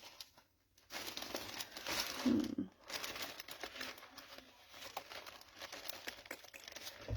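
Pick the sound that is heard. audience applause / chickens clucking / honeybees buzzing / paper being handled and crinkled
paper being handled and crinkled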